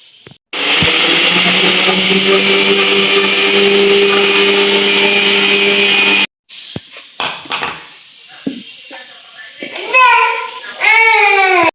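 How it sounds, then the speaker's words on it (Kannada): A mixer grinder whirs loudly as it grinds onion, tomato and chilli in its jar, a steady motorized roar of about six seconds that then cuts off abruptly, followed by clatter and people talking. "ಇದಕ್ಕೆ ಎಲ್ಲ ಒಟ್ಟಿಗೆ ಮಿಕ್ಸ್ ಜಾರಿಗೆ ಹಾಕಿ ಗ್ರೈಂಡ್ ಮಾಡೋದು"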